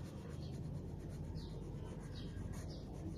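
A 2B pencil drawing on paper, a faint continuous soft scratching with a few short stroke sounds over a low background rumble.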